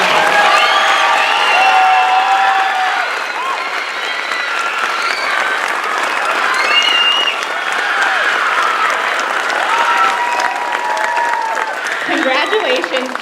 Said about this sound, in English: Can we give these seniors a warm round of applause?